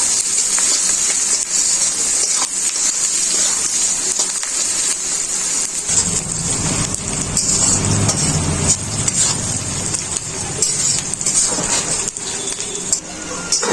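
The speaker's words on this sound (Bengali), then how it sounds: "রান্না করার জন্য পেঁয়াজ দিয়ে দিলাম কড়া।" Onions frying in a wok, a loud continuous hiss and sizzle close by that thickens into a fuller, rougher crackle partway through, with no talk.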